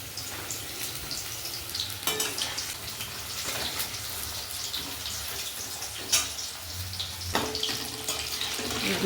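Chilli chicken pieces fry in hot oil, giving a steady, hissing sizzle with occasional louder spatters and pops, close and continuous with no talking.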